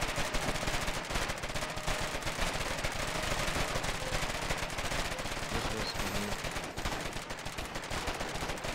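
Sustained gunfire from the war game Foxhole, with dense rapid shots and bursts continuing throughout, loud and near over a constant battlefield din, no talking.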